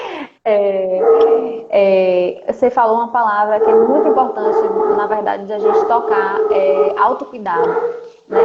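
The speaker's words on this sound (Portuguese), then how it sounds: "Tem um cachorro latindo aqui no fundo" A dog at home barks and yips in the background, intermittent and fairly close, beneath continuous talk from a woman.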